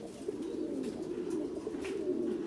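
Pairs of Thai Titan pigeons kept in steel cages on a pigeon farm coo continuously, a steady overlapping low murmur of several birds close by with no talking.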